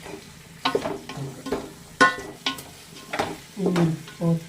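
Chicken biryani masala is sautéed in a pan up close, with a low sizzle under sharp clinks and scrapes of a spoon against the metal and a few louder stirring bursts.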